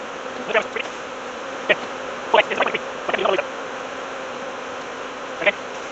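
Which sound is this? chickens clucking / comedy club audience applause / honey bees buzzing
honey bees buzzing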